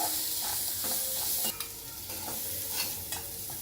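Pea sundal with spice powder is stirred in a pan, a close soft sizzle with repeated scraping taps of the spoon at an uneven pace, no voices.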